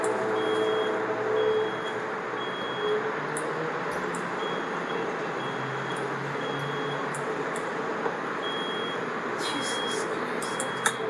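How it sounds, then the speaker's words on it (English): Alarm beeping in short regular high-pitched bursts over a steady broadband background roar, fairly distant and partly masked, with a few sharp clicks near the end. "It's alarm, you see? It's alarm."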